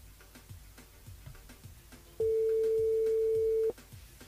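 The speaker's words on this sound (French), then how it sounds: "Ah, ça sonne." Ringing tone on an outgoing phone call to a radio show guest, one long steady tone lasting about a second and a half, preceded by faint background ticking and clicks.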